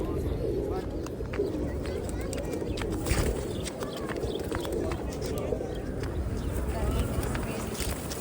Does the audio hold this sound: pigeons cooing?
yes